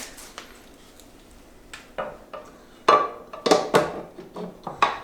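Metal sausage stuffer parts clunking and knocking as they are loaded and handled, a series of sharp hard clatters that grow louder and more frequent toward the end, close by.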